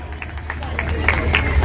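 Audience clapping at a Teeyan festival celebration held by Bharat Gaurav Sanstha, scattered claps building over a low steady hum, fairly close and growing stronger toward the end, with faint background murmur.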